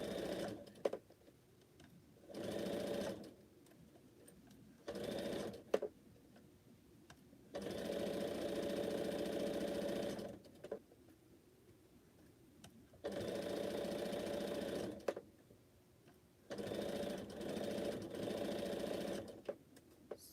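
Domestic sewing machine stitching quilt pieces in several bursts of steady whirring, each lasting a couple of seconds with short pauses between, close and clear with no talk.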